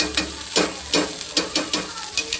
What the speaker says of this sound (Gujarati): એને ઠેચાને આવી રીતે સાંતળી નાખે બટરમાં